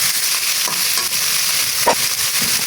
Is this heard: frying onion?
yes